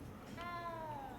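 A cat in Hogwarts Legacy gives a single rising-then-falling meow of about a second over soft game ambience, fairly clear and close, with no speech.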